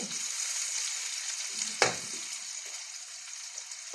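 Onion and garlic fry together in a pan until browned, giving a steady close hiss of sizzling oil broken by a few sharp scrape-and-stir knocks, with no voices.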